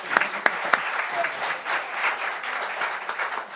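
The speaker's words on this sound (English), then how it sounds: "Let's give a round of applause." An audience applauds at an environmental stewardship awards ceremony, a full round of clapping with a few sharp claps standing out near the start.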